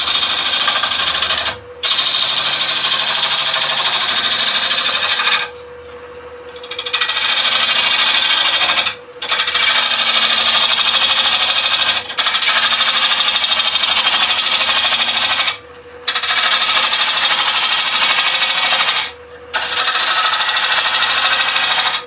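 A wood lathe spins a re-chucked piece as a gouge takes finishing cuts, giving a loud, steady, close hissing roar that breaks off in short pauses several times.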